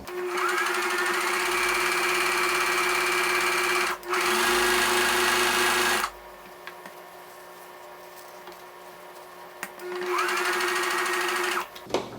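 A sewing machine stitching the outside edges of scrunchie fabric, long steady whirring runs of the motor with brief pauses and a quiet stretch in the middle before stitching resumes.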